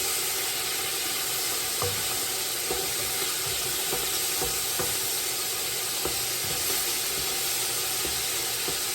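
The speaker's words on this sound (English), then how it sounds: "I'm just stirring the beef around to brown it" Beef browns in a sticking stew pot over medium-high heat, giving a constant hiss and sizzle with faint scraping taps from stirring scattered through, no talking.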